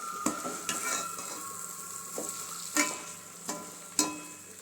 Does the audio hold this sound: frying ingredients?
yes